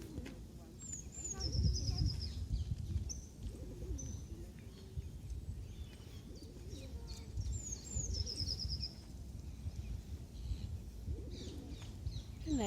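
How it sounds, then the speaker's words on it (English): Birds at Peckham Rye pond, where pigeons coo and birds chirp softly among geese with chicks, set over a low, rumbling outdoor background with faint voices nearby. "Lots of birds"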